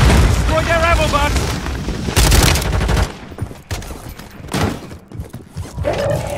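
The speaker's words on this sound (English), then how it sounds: "Stun grenade out!" A stun grenade bursts with a loud, sharp bang in Warzone 3.0, set among heavy gunfire and a voice talking at the start, then the mix drops to scattered quieter shots.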